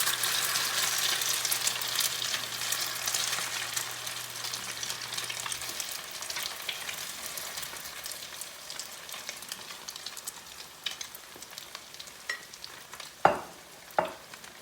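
Matza brei with sautéed mushrooms and onions frying in a pan gives a steady, close sizzle on its own, with a couple of sharp clatters near the end.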